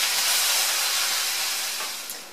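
Beef strips sizzling as they are stir-fried in a pan for stir-fried beef with bell peppers, a loud, continuous hissing crackle up close that fades slightly toward the end.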